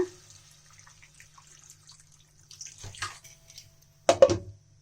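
Water trickles and splashes into a metal pot in short bursts, ending in a louder pour, with quiet clinks before it.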